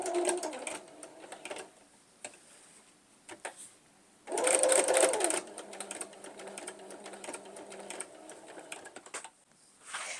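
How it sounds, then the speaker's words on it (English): A sewing machine stitches a fabric applique onto a jean jacket with a quarter-inch seam, running in steady bursts with short pauses and a louder stretch partway through. "I finished stitching all the way around"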